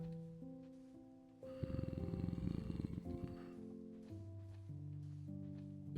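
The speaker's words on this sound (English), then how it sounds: "Purr." A cat in Minecraft purrs, a low rumbling burst rising for a few seconds over soft background music before fading back, with no speech.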